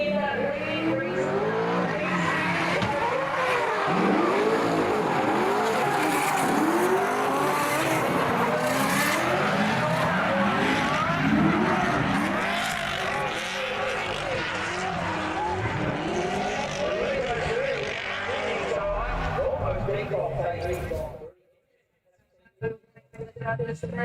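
A drift truck with a 310 kW 1J engine screams at high revs while its tyres squeal and skid in long wavering howls, loud and close. Commentators talk over it, and the noise cuts out abruptly near the end.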